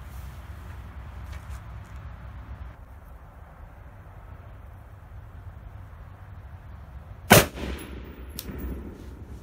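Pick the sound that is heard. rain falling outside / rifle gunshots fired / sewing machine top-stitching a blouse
rifle gunshots fired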